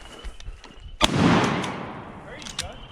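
A single loud shotgun blast during a duck hunt in a small South Georgia swamp, a sharp crack followed by a long rolling echo that fades over a couple of seconds, with faint clicks around it.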